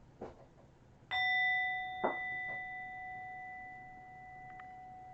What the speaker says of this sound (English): I'll ring my actual cheesy, tiny thingamahoo bell.